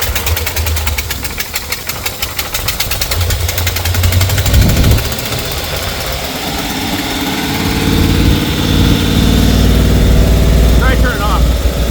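Rusty Ford Mustang GT350 Foxbody V8 with a carburetor, revived after 20 years, running with a rough, knocking idle, loud and close, under steady low rumble with occasional voices.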